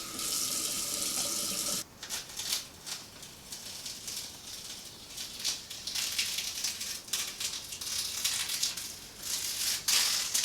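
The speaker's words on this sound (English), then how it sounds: "Washing the brush out is a breeze." Water runs steadily from a tap as a paint brush is rinsed beneath it, a continuous close splashing hiss with brief breaks and surges where the brush moves through the stream.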